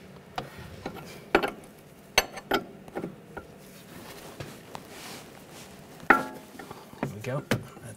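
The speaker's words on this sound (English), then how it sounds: "using a 21mm wrench or 13/16, loosen up the jam nut." A 21mm wrench works loose the inner tie rod jam nut on a 2004-2009 Audi A4 Quattro, producing sharp metallic clicks and clanks at irregular intervals, close to the microphone.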